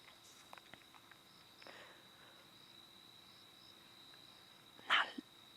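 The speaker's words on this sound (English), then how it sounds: "Now it's just the insects, the crickets and things." Crickets and other insects chirp at dusk in the bush during a sunset safari, a faint, steady high trill that runs throughout with a brief soft knock near the end.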